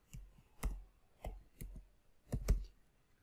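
Someone types on a computer keyboard while installing software on Debian, with sparse, clearly separated clicks in small clusters, some doubled, close and fairly quiet with no voice.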